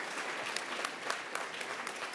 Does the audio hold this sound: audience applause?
yes